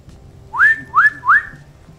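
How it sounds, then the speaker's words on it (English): Three loud rising whistles in quick succession, each sweeping up and holding a bright tone, over a low ambient rumble, used as a forest sound effect in a fantasy tabletop roleplaying game session. "You hear a loud whistle from within the trees over here"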